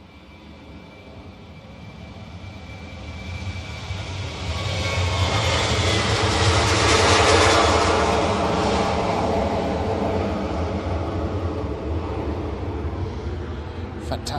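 A Jet2 airliner departs Bristol Airport on an early morning, its broad jet engine roar swelling from a distance to a loud, sustained peak midway, then holding steady as it climbs away, with light talk underneath.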